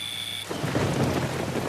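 Steady heavy rain pours down around a man walking outdoors, a dense continuous hiss and patter that swells in after a quieter opening, with no voices.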